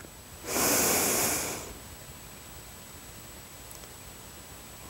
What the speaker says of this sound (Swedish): Och ett andetag till.